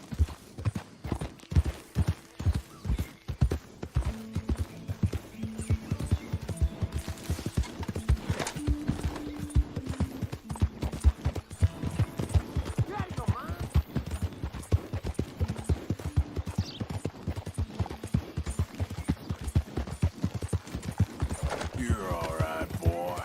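Horse galloping in Red Dead Redemption 2, a rapid, rhythmic clip-clop of hooves that runs steadily throughout, with faint snorting and occasional game sounds.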